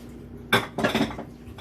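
Dishes and a spoon clatter into a kitchen sink while making marbled brownies: a sharp clank, then a short run of rattling knocks and scrapes, close and fairly loud, with no talk.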